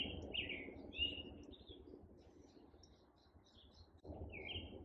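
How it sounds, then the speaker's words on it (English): Birds chirp in short, scattered bursts by a creek, high and fairly faint over a steady low rush of water or ambient noise. "you can also hear the birds chirping in the background."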